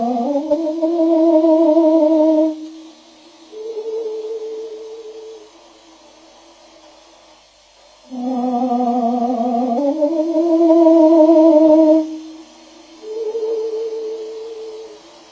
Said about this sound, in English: That is the sound of a bird, slowed down to a pace that the human ear mistakenly recognizes as its own.